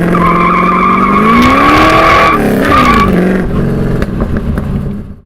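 Muscle car such as a Firebird, Camaro or Nova with a straight-through Race Pro muffler, loud rising exhaust drone with tire squeal, a brief shift, then fading away as the car passes.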